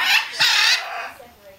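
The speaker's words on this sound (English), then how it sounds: "You see that bird?" A pet bird lets out two loud, harsh squawks in quick succession, very close, the second longer, then fading to quiet.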